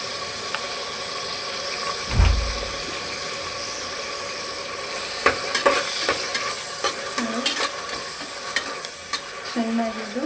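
Ingredients frying with turmeric in a pan for methi pulao, a steady bright sizzle with a low thump early on, then a run of quick scraping stirs and clinks, close and free of speech.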